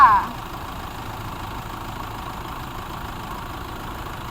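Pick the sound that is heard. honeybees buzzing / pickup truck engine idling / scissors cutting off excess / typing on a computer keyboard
pickup truck engine idling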